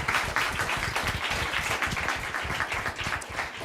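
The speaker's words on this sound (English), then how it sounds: "Give Matilda a round of applause, too." Audience applause fills a design talk evening, a dense, steady wash of clapping from a crowd that stays loud and even throughout.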